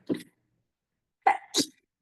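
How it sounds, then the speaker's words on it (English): A sharp sneeze bursts out, followed a moment later by a quick double burst like a second sneeze or cough, close to the microphone with silence between. "Oh, now I'm going to sneeze."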